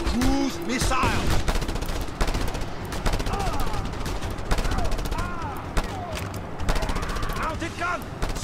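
Rapid volleys of handgun fire in the open-world action game Just Cause 2, loud and continuous, layered with other gunshots, explosions and chaotic game effects throughout.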